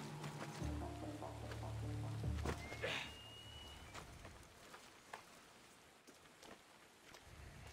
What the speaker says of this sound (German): Und es regnet schon wieder in Athen.